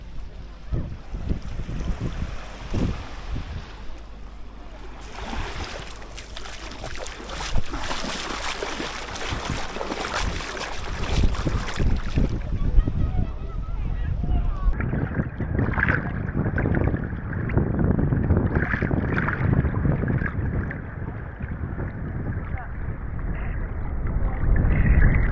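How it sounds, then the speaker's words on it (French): Strong wind on a beach at Elafonisi, Crete buffets the microphone with loud, rumbling gusts throughout, mixed with the wash of water and a faint higher whine later on. "J'espère que vous entendez quelque chose, il y a beaucoup de vent."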